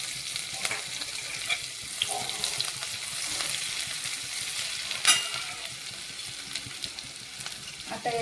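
Ginger-garlic paste sizzling in hot oil in a pan while cooking misal, a steady close crackling fry with occasional stirring scrapes.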